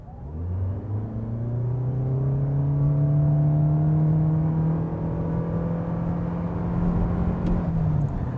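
A 2026 Toyota Corolla Cross Hybrid XSE AWD with a naturally aspirated 4-cylinder engine accelerates hard on a straight road. The engine drones steadily and rises in pitch for about eight seconds without a break, loud and close, with no talking.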